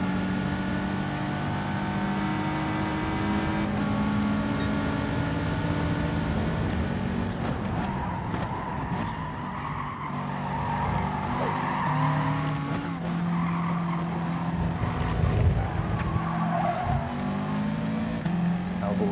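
A Lamborghini race car in Gran Turismo Sport running wide through a corner, engine droning and revving continuously alongside other cars, with tire squeal and skidding, the motor shifting pitch as it accelerates.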